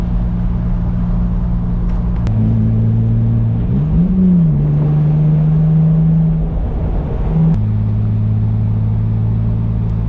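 A BMW E30 convertible with an M50B25 engine drives along at a steady cruise, its loud low engine drone holding constant with a brief dip and rise in pitch midway, like a gear change.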